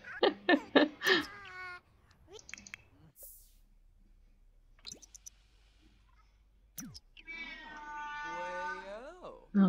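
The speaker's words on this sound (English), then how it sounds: "Oh god, there goes my cat." A cat in The Sims 4 meows in a few short, strained calls, first a quick burst and then a longer drawn-out cry, with a person talking in between.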